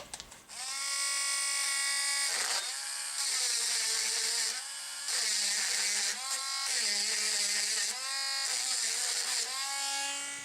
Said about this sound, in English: if you don't have a Dremel to grind it away